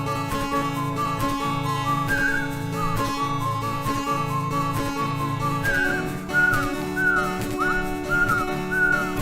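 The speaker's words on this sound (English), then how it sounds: "Let's whistle." A person whistles a lilting tune over steady instrumental backing, the bright whistled notes rising and falling across several phrases and sitting close and clear above the accompaniment.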